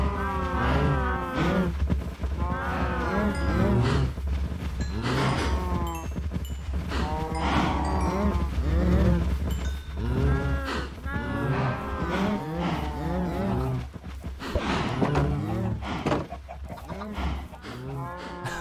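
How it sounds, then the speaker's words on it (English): Many Minecraft cows moo repeatedly in overlapping, drawn-out calls, loud and close, with occasional chicken clucks mixed in among the herd. "Oh, there's so many cows."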